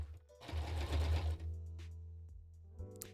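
An electric sewing machine stitching large cosplay pieces together, a close whirring burst of rapid needle strokes that slows and stops, followed by quieter mechanical clicks.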